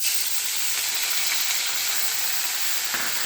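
Curry leaves crackle and sizzle in hot oil for a savory flattened-rice (avil) mixture, a steady loud hiss throughout with a brief sharper burst of spitting near the end; no voices.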